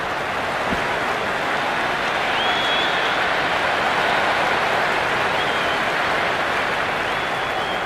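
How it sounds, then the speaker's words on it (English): Stadium crowd applause in the cricket video game Cricket 26 during an India versus Netherlands T20 World Cup match, a dense, loud, steady roar of clapping that holds without a break, with no talk. "It's evident and ever so well that the crowd is at near bursting point at today's play."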